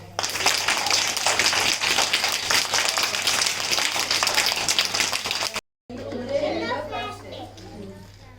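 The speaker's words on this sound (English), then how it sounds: "Clap them." Pre-primary schoolchildren clapping at a school colour-day event, dense continuous clapping with children's voices throughout, briefly cutting out then resuming more faintly beside chatter.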